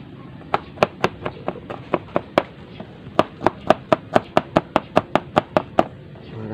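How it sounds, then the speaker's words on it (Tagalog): Knife chopping garlic into small pieces on a board outdoors for tubing-tubing, a run of sharp close taps, first irregular, then a quicker steady rhythm of about twenty strikes. "naano natin yung bawang, hiwa-hiwain ng maliliit"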